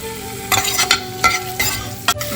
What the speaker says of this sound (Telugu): ఎగ్స్ ఇలా బాగా రోస్ట్ కావాలండి